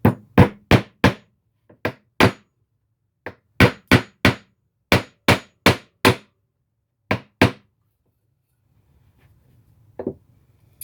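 Hammer blows drive nails into a wooden hand tool tote: sharp, loud close strikes come in quick clusters of three or four with short pauses between, ending in quiet shuffling and one last tap.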